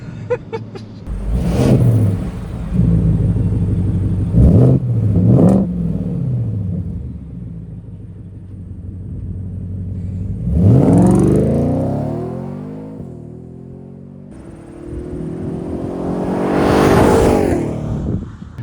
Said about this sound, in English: the V8 just sounds so what good